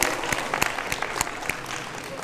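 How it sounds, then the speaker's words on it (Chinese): An audience at a cycling event claps in scattered, uneven applause with sharp individual claps, fairly close, and some talk underneath. "大家掌声鼓励鼓励"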